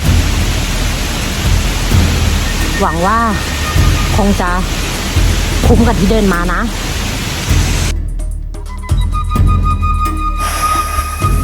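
Steady broadband roar of a waterfall in southern Laos after a long jungle trek, loud and constant throughout, with someone speaking over it in the middle.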